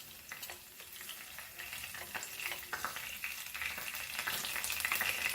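Curry leaves and cumin seeds frying in hot oil for a Goan prawn chilli fry, a continuous crackling sizzle with spitting pops that grows slightly louder over about five seconds.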